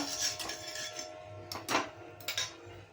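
A spoon stirs dry fruit powder with sugar, making faint, close scraping with a few soft clinks against the container, all quiet and without talk.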